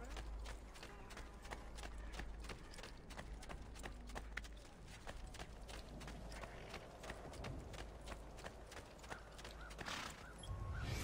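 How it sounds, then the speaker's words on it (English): Horse hooves clip-clop steadily in the Assassin's Creed II video game, a continuous rhythmic trot heard close and fairly quiet over a low game soundscape. "let's actually get the horse for real and move on"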